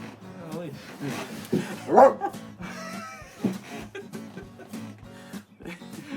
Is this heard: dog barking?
yes